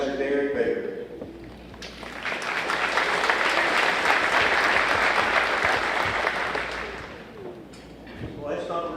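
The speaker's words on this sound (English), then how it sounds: "it's not very often that I get applauded to come forward to the podium" A graduation audience at Campbell's 2020 high school ceremony applauds as a pastor is welcomed to the podium: dense, sustained clapping swells then tapers, with a voice speaking at the very start and again as it fades.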